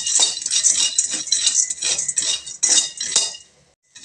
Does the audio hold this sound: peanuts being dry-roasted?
yes